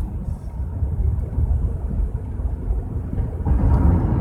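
A car engine runs rough after fuel system cleaner is added, giving a steady, heavy low rumble with uneven surges that grows louder near the end, heard from inside the car with no talking.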